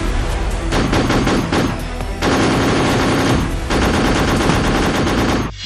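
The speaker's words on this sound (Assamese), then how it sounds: "মাওবাদীক লক্ষ্য কৰি CRPFৰ ধাৰাবাহিক গুলীবৰ্ষণ।" CRPF forces firing at Maoists in a forest area, loud continuous bursts of automatic gunfire with rapid overlapping shots, brief pauses between volleys, close and dominant with no talk.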